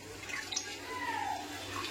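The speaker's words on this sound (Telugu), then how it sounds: "నీళ్ళు పోయాలి." Bore water pours from a stored supply into a pot of cooking dal, a short continuous splashing gush heard close and fairly quiet.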